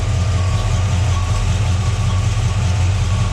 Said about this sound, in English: Let you listen to the engine here.